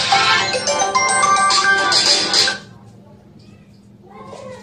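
A bright, tonal electronic mobile phone ringtone plays loudly for about two and a half seconds, then cuts off, leaving a quiet room with faint voices.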